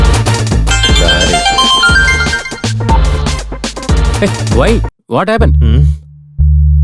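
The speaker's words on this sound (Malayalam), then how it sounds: "റിംഗ് ടോൺ ഒക്കെ ഉണ്ട്, പക്ഷെ ഫോൺ എടുക്കുന്നില്ല." A phone rings unanswered in a Malayalam-dubbed comedy action film, with loud repeating electronic ringtone tones and melodic beeps broken by brief silent gaps.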